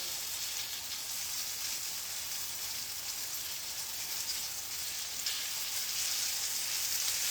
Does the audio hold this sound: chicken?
yes